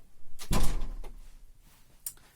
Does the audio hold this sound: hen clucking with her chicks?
no